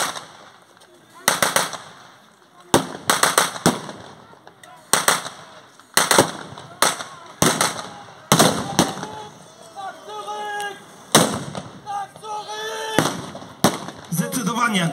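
Gunfire and grenade blasts during a reenactment of a Greater Poland Uprising battle at Miedzichowo, irregular sharp cracks and booms in clusters, some rapid volleys, loud and close, with shouting voices between shots.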